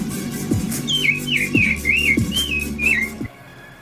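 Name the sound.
woman imitating bird calls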